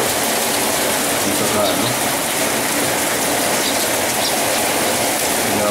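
Steady heavy rain pours during Typhoon Pablo in Dipolog, a dense continuous hiss that fills the whole stretch, with a voice speaking briefly over it.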